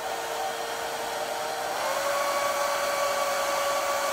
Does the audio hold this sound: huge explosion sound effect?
no